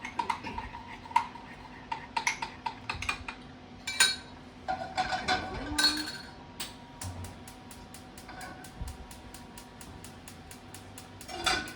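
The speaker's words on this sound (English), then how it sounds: "take a little bit of this warm butter sauce, put it in here, and again, I'm gonna mix it, hopefully get all the lumps out" Warm butter sauce being whisked in a bowl to smooth out lumps, giving quick, irregular metallic clinks and taps of a whisk against the dish. The clinks run steadily and up close with no talking.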